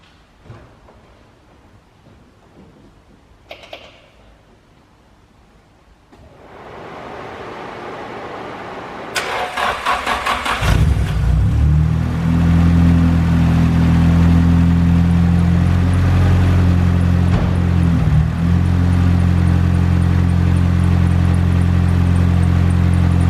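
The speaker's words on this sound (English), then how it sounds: "hopefully it's going to start and run smoothly. I'll leave it running for a couple of minutes just to see if there's any misfires. Once it heats up, give it a bit of a rev." Nissan S14 engine cranks and fires after a quiet start, then settles into a loud, steady idle with a deep low drone that continues to the end, close by with no talking.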